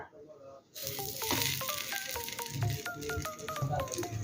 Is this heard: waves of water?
no